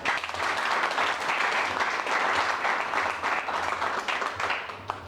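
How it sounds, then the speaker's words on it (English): An audience claps steadily for donors and sponsors at a community gathering in Mathare Division, the dense applause sustained and fairly loud throughout before tapering slightly at the end. "So let's give them a clap and ourselves."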